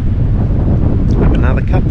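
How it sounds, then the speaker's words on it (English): Steady wind roars across a remote island campsite, buffeting the microphone continuously at close range, with faint voices briefly surfacing near the end. "hopefully this wind settles down soon"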